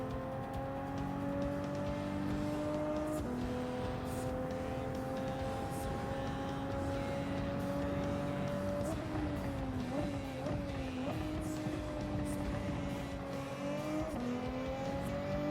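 Race car engine in a racing video game at the Red Bull Ring, holding a steady high drone that dips on downshifts and wavers through corners before pulling back up under power, loud and continuous with no talk.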